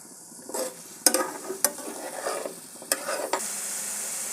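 A spoon stirs spices and coriander powder through fig (dumur) curry in a hot pan, giving several sharp scrapes and clinks against the pan over a soft sizzle, close and without talk.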